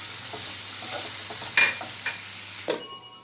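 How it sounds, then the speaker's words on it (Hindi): Carrot, capsicum and green peas stir-fried for vegetable fried rice, a steady sizzle with sharp scraping stirs midway and a louder clatter near the end, close and alone. "अब इसको मिलाने के बाद इसमें डालेंगे हरी मटर।"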